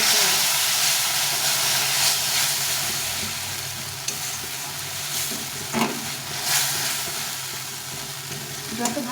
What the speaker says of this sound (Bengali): এখন এই মশলা বাটি ধোয়া জলটা দিয়ে দিলাম